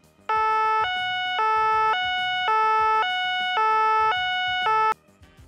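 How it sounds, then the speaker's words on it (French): A French priority emergency vehicle's two-tone siren alternates high and low pitches in a steady, even cycle, loud and clear for about four and a half seconds, with no voices over it. "Les véhicules d'intérêt général prioritaire ont des sirènes à 2 temps."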